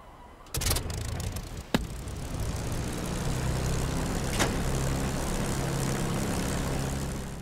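The TF-51D propeller engine in the DCS World flight sim catches after a brief start and settles into a steady, throbbing idle. A couple of sharp clicks sit on top of the continuous, close drone.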